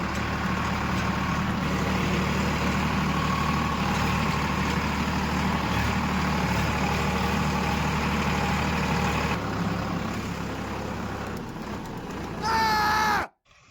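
A farm tractor's engine runs steadily and loud throughout, a constant low drone with no talk, ending in a brief burst of higher whining sound before cutting off.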